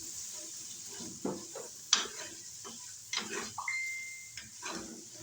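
Red chilli powder and spices are stirred into frying moti pulao, heard as a few soft, close scrapes and taps of a spoon against the pot over a faint sizzle, with quiet gaps between strokes.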